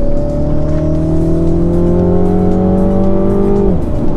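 Mini John Cooper Works with its 231 hp turbocharged engine heard from inside while driving, a steady loud drone holding under load and rising slowly in pitch before easing off near the end.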